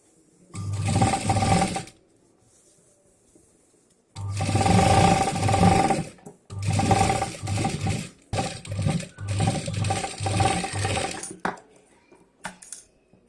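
A sewing machine stitches a fabric travel bag in several loud whirring bursts, the first few longer, then shorter runs separated by quiet pauses.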